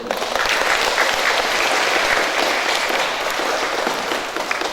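Congregation applauding the priest at a church wedding, a dense, steady wash of many hands clapping that fills the room for several seconds.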